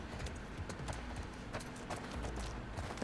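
Horse hooves clip-clop in a steady rapid rhythm in the video game The Last of Us Part II, close and fairly loud, with no talk.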